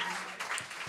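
A small audience applauds a band's stand-in member at a birthday jam show, a brief, steady wash of clapping at moderate distance.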